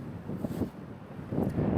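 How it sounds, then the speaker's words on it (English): Cold wind sweeps across an open field and buffets the microphone in faint, low gusts that swell and ease, growing stronger near the end. "A very windy field."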